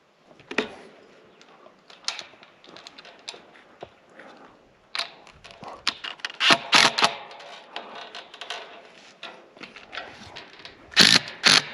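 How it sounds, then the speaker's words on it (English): A ratchet strap being cranked tight on a garden fence, irregular bursts of close metallic clicking and rattling with short pauses between strokes, growing louder toward the end. "ratchet it until it's tight enough"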